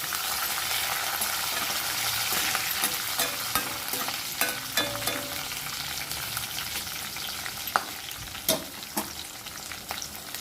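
Green chillies and curry leaves sizzle steadily in hot oil in a pan, a continuous loud crackle broken by scattered sharp pops and the clicks of stirring.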